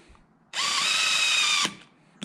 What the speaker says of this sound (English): I'm just going to hand tighten all these first with this drill